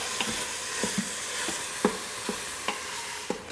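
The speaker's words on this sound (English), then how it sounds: "Now we're going to saute that for 5 minutes." Lamb browning in a stew pot, a steady sizzle of frying meat punctuated by regular soft scrapes and knocks of stirring, close and moderately loud with no talking.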